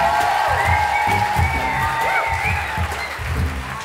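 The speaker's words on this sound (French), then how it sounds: "un double round d'applaudissements pour l'orchestre de Villebon qui était là juste avant" Audience applause with cheers and whoops for the Villebon orchestra at the EthnoFrance 2024 event at a cultural centre, lively sustained clapping with shouted voices mixed throughout.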